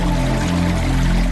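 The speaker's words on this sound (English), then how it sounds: "Runoff flows into a storage pond or tank." Rainwater runoff pours steadily into a village storage pond, a loud, dense, continuous rush of flowing water with no pauses.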